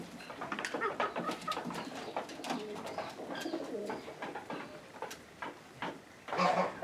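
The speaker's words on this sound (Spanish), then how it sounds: "hemos llegado a la sección de gallinas japonesas" Japanese hens at a farm in Texistepeque, El Salvador, clucking and cooing in a dense, continuous flock chorus at moderate distance, with scattered louder calls and a brief burst near the end.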